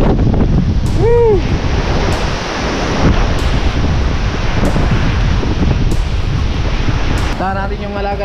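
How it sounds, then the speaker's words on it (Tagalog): Strong typhoon wind on Burias Island roars without letup alongside crashing surf, buffeting the microphone hard; a few brief tonal squeals and shouts cut through the constant storm noise. "Lakas pa rin ang hangin."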